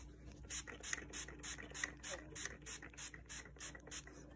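A spray can being applied to a handmade craft tree, with a rapid series of short, rhythmic hissing bursts and faint rattling, quiet and close.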